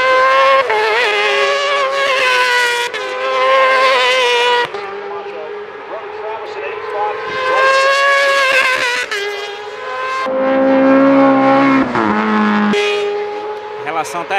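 600cc Super Stock motorcycles race around a track, their engines screaming at high revs and rising and falling steadily as they pass near the listener.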